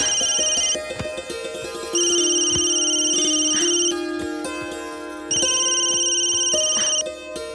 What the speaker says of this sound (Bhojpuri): चाची के फोन।